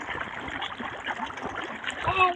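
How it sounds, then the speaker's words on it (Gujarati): Irrigation water flowing into a wheat field outdoors, a close, continuous splashing and gurgling stream that swells slightly toward the end. "કંઈક આ રીતનું પાણી ચાલુ છે"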